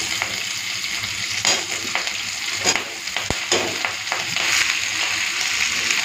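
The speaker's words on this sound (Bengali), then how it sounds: "পেঁয়াজটা লাল করে ভেজে নিয়েছি, এখন দিয়ে দেবো সেই কেটে রাখা সবজিগুলো" Chopped vegetables frying with browned onion in a pan, a loud close sizzle punctuated by repeated scraping and stirring strokes throughout.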